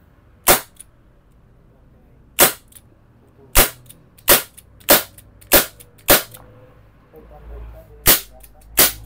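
ASG Dan Wesson CO2-powered airsoft revolver firing about nine sharp, snappy cracks, loud and close, spaced irregularly with short gaps, over a quiet background without talk.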